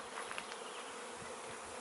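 Honeybees swarming around a beehive on a homestead smallholding make a dense, continuous buzzing drone, steady and close, with no voices over it.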